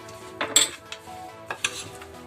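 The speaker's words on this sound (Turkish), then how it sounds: "Evet, karıştırıyoruz güzelce." Cracker dough with black pepper, mint and salt being stirred in a bowl: scattered close clinks and scrapes of a utensil against the bowl, irregular and fairly quiet.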